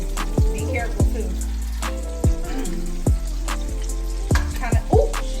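Salisbury steak patties fry in a hot pan, a steady sizzle marked by sharp, rhythmic pops and spatters every half second or so, close and fairly loud.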